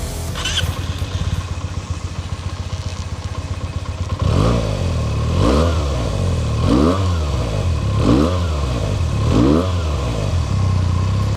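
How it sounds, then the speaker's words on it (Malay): A Benelli TNT 249S sport motorcycle idles with a fast, ticking burble, then revs repeatedly, about five rising and falling blips of the engine, loud and close. "So sekarang ni ada nak belanja sikit bunyi Benelli TNT 249S ni macam mana."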